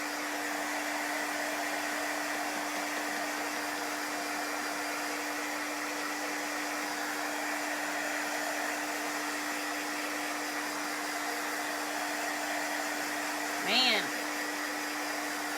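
A hair dryer runs steadily on shimmer chalk paste, a close, even whooshing drone with a constant hum that lasts throughout, while someone briefly speaks near the end.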